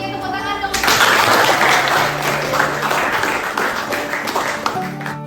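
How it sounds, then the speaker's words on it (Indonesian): An audience claps for a school project presentation on turning used cooking oil into useful goods. A dense burst of applause starts after a short tonal lead-in and holds loud and steady, with voices mixed in. "Oke, tepuk tangan dong."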